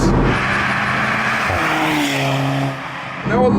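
A 2015 Alfa Romeo 4C sports car accelerating, its engine note rising in pitch through the gears up close, with a brief dip between shifts and a voice speaking over part of it.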